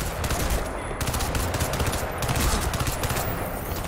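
Enemy gunfire in the Crysis 2 video game: loud, continuous automatic bursts with rapid rattling shots that fill the whole stretch and leave no gaps for voices.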